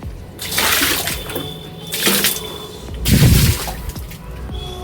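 Water splashes and pours in three broad bursts while a dog is washed, with softer running water between them and no talk.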